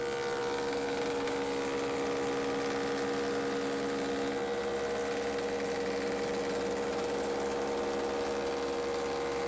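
A Woodmaster planer/molder runs steadily with a single knife in the planer head, shaping a board into curved molding, giving a continuous, even machine drone with a constant tonal hum for the whole stretch.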